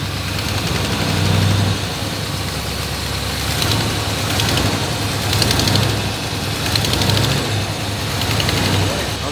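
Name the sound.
1962 Chevrolet Impala engine idling after first fire up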